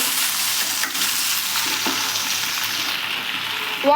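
Eggplant and tomato pieces frying in oil give a steady, close sizzle with occasional stirring scrapes, the hiss easing slightly toward the end.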